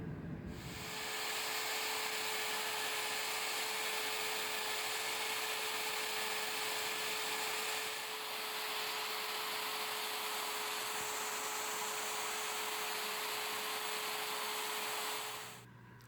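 A steady high-pitched whir of a hand drill, clamped in a vise, spinning a wire brush runs continuously for about fifteen seconds, loud and close, with a constant tonal hum underneath.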